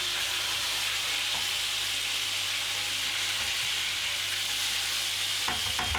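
A snapper fillet with crisp skin frying in a hot pan, a loud, even, continuous sizzle heard up close, with a couple of soft knocks from the pan near the end and no talk.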